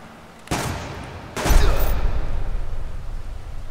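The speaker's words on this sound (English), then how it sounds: "That's a shotgun." Two sharp, loud shotgun blasts ring out in the Subsistence survival game, about a second apart, the second leaving a long rumbling tail over quiet ambient background.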